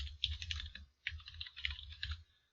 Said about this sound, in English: And I really hate my kid's keyboard.